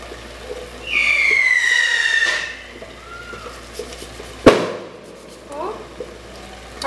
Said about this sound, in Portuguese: O povo continua soltando fogos.